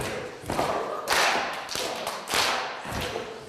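Hand claps during a Ghanaian dance exercise, sounding as a handful of sharp, fairly loud claps and thuds in a loose rhythm.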